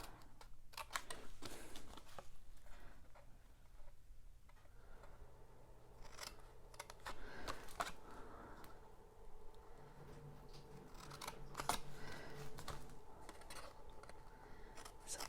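Scissors snip through cardstock while a treat box is made from a tag punch design, giving a steady run of faint, close clicks and slicing strokes over roughly fifteen seconds with no talking.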